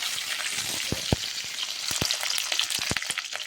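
Mustard seeds, dried red chillies, onion and curry leaves frying in hot oil for a tempering, a steady hiss with scattered sharp pops and crackles close by, no talking.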